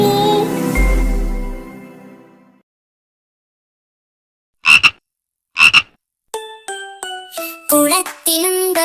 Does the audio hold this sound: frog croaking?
yes